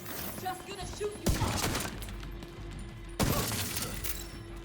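Gunfire in The Division 2, two loud bursts of shooting with crashing impacts about two seconds apart, over game ambience and a steady tone, with brief speech nearby.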